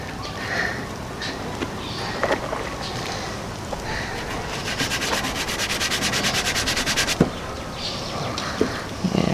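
Hand sanding of a rotten 1956 VW Beetle engine tin: soft, scratchy rubbing strokes at close range, with a faster run of rhythmic back-and-forth passes in the middle, mostly quiet between strokes.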